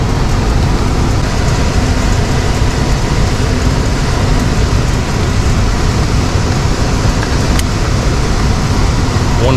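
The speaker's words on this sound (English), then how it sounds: "This is an X13 blower motor." An X13 blower motor in an older heat pump system runs steadily, a loud continuous broadband whoosh and hum with no break.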